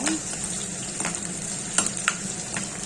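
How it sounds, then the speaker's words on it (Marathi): Chopped garlic cloves, with chillies, fry in hot oil for a green chickpea-leaf dish, giving a steady close sizzle broken by a few sharp crackles and stirring clicks, with no talking. "त्यानंतर 8-10 पाकळ्या लसूण चिरून घातलेल्या आहे, त्या पण चांगल्या लालसर होऊ द्यायचा"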